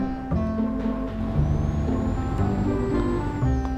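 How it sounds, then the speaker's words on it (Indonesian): Vehicle pulling away in second gear on a road trip toward a river resort, its engine note rising steadily as it accelerates, loud and close with a faint whine climbing above the drone. "Kita gaskan yuk, kita pakai gigi dua sekarang lah ya kan"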